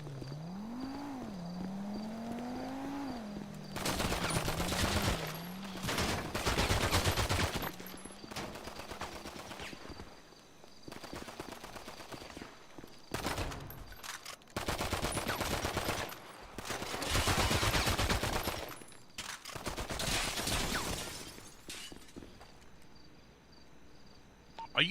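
Repeated bursts of automatic gunfire in GTA 5 roleplay, several long rattling volleys separated by short pauses, with a vehicle engine droning early and a continuous high background tone.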